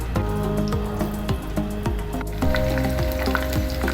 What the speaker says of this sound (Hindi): प्याज को सौते करेंगे,